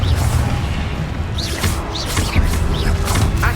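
A Confringo fire spell goes off in the Hogwarts Legacy video game, giving booming, whooshing blasts and crackling impacts over a dense, continuous layer of game combat noise.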